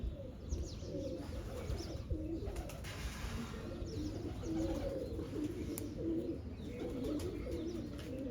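Pigeons cooing softly and repeatedly, a few birds close by giving low rolling coos in an uneven rhythm, with faint chirps in the background and no talk.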